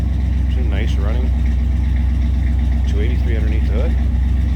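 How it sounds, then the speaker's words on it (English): A 1964 Chevrolet Impala two-door hardtop with a stock-exhaust 283 V8 idles with a steady, even low rumble from behind the car while someone talks over it. "Slip around to the back so you can hear it run."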